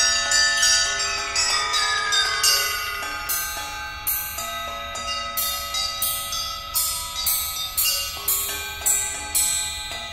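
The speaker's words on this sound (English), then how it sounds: "a fourth statement in the bell coils that is 12 measures long" Bell coils in Harrison's Fugue for Percussion ring out in a steady pattern of bright, metallic struck tones, each hit decaying into a shimmering sustain as the line moves on at an even pace with no voices.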